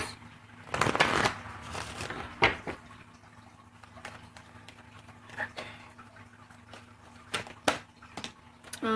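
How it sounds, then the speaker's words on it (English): A deck of cards being shuffled in quick riffling bursts, with softer handling noises and pauses between, close and fairly quiet. "Okay, 2 more shuffles."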